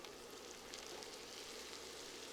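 Bacon and ham sauté in a hot pan with a soft, steady sizzle. The sound is faint and even, with no voices.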